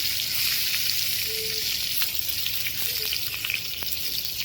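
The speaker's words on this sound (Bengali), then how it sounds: "পেঁয়াজ দিয়ে দিলাম রসুন দিয়ে দিলাম" Onion and garlic sizzle steadily in a hot frying pan, a dense, even hiss close up, with a few faint stirring ticks and no voices.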